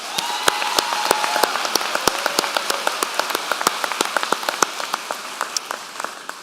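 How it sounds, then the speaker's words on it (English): Applause from the audience at a Florida Atlantic University spring commencement ceremony, made up of sharp separate claps over a steady broadband patter, moderately loud and heard with no talk. "Please give a warm round of applause to the FAU faculty."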